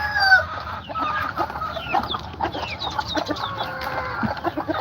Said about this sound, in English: we'll get bottom of this bucket for these native chickens